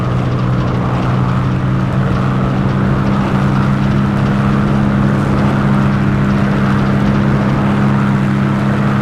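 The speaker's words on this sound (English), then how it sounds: "And we're airborne in the Spitfire." A Spitfire's piston engine roars steadily at full power during takeoff in the FSX flight simulator, a loud continuous droning hum with no voices.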